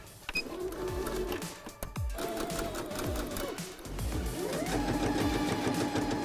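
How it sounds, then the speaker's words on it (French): A Silvercrest sewing machine sews a 1 cm shoulder seam on a shepherd-style vest, whirring in quick bursts with short stops between them, fairly quiet and close. "nous allons commencer par la couture, ici 1 cm au niveau des épaules"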